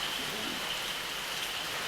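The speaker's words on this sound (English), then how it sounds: "It's raining." Steady rain falling in a monsoon forest at Manoli Falls, Maharashtra, a soft, even hiss of drops with no breaks.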